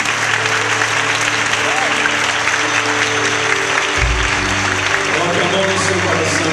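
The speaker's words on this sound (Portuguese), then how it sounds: "Dê um aplauso bem lindo ao Espírito Santo." A church congregation at a consolidation seminar claps together, a steady full wash of applause filling the hall, with a low thump partway through and a voice speaking over it.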